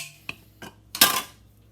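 Dough gets mixed in a bowl, heard as three short clinks and scrapes of a utensil against the bowl, the last one longer and brushier, close and fairly quiet.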